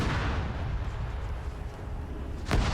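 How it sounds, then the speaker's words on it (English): Grenade blasts in the military shooter Arma 3, a rumbling wash of distant explosions with one sharp, louder burst near the end. No voices are heard. "I'm trying to throw some grenades around"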